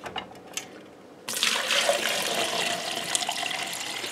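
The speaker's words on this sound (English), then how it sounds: "I'm going to fill this up with water." Tap water poured into a one-liter measuring container, a sudden steady hissing splash that starts after a quiet moment and continues without pause, fairly close.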